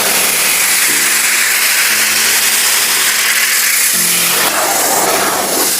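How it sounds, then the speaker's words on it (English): A pressure washer blasts the interior of a flood-damaged salvage car, working over the center console, air ducts and glove box. A loud, steady hissing spray runs throughout over a low pump hum. "Nothing escapes the pressure washer today."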